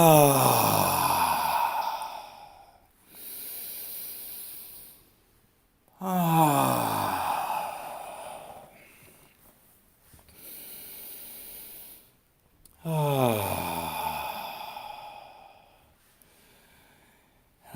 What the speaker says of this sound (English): Let's take 3 deep, sweeping breaths.